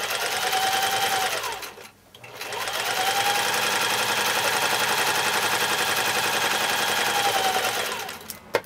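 Sewing machine stitching a seam on a half-square-triangle quilt block, a loud steady rapid whirring run that pauses briefly, then resumes and continues to the end.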